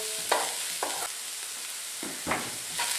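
Spinach pie filling seasoned with oregano is stirred and cooks in a pan, with a soft steady sizzle broken by several scraping stirs at irregular intervals, close and clear with no talking.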